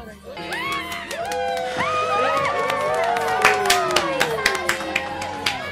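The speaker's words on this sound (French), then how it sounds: "J'applaudis comme si j'y étais" Clapping and cheering crowd with shouting and whooping voices, building to louder sharp individual claps toward the end.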